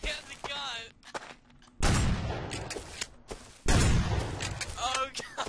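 Gunfire from the video game Rust comes as two loud, dense bursts of shots separated by quieter gaps, with people talking in between.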